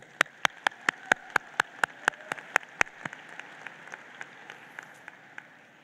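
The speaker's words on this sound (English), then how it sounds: "join me in giving this village a round of applause" Rhythmic, evenly spaced applause from an audience at a high school graduation ceremony: crisp, close claps at a steady beat that thin out and soften after about three seconds, with no talk.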